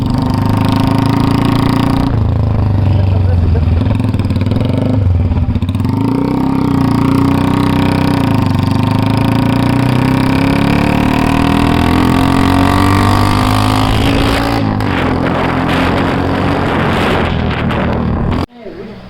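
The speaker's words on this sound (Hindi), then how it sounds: "इसने अपनी बाइक में एग्जॉस्ट लगाया तो उसकी साउंड।" A loud motorcycle with an aftermarket exhaust idles and revs with a deep, throaty exhaust note, held close by for most of the stretch before cutting off abruptly.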